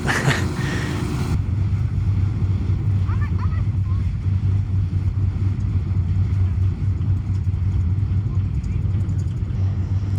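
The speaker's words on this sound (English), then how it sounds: "I'm just obsessed with this ferry. I'm sorry. This was so much fun to be outside in the wind." On the open deck of a ferry running between Bainbridge Island and Seattle, a steady low engine rumble runs under constant wind buffeting the microphone, loud and unbroken throughout.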